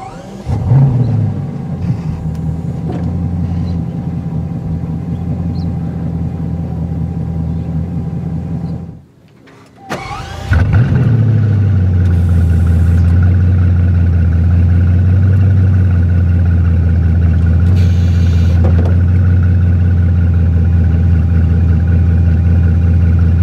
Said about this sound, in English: hit the blue engine start button in the bottom right-hand corner of the steering wheel